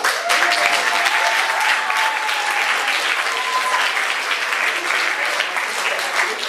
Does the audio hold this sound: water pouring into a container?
no